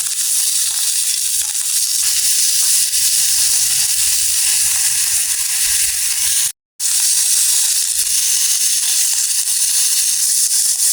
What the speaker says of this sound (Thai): ไฟมันแรงครับกระทะมันบางด้วยก็ไว้นานเดี๋ยวมันจะไหม้ครับ